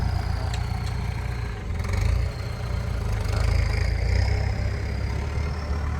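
A tractor engine runs nearby, a loud, steady low rumble with slight swells in intensity, heard on its own without talk.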